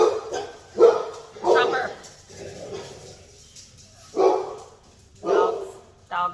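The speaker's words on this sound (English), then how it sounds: "Dogs." Dogs bark several times indoors during a Dollar Tree craft session, loud separate barks with short yips in between, while a person speaks briefly.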